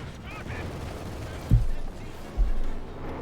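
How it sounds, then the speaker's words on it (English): In a Company of Heroes 2 battle, two heavy booming explosions land about a second apart under ongoing talk, set against a dense bed of battlefield rumble and distant gunfire. "More death raining down from above here. More explosions, more carnage."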